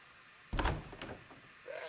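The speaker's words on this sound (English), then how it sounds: "Open this door or I'll kick it in!" Door kicked in within Assassin's Creed Odyssey, a sudden heavy wooden bang followed by a rattling impact and a short trailing thud.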